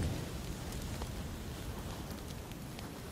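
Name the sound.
Molotov cocktail fire burning in PUBG video game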